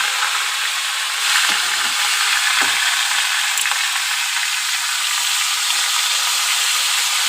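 Chunks of bottle gourd and potato sizzle in a hot kadai, a steady bright hiss of frying with a few soft clinks and stirring scrapes, close and uninterrupted.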